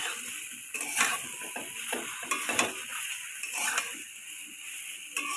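Jujube pickle being stirred in a pan at home, a steady background sizzle broken by repeated scraping and clinking strokes of a spoon against the pan, close and fairly loud, with no speech.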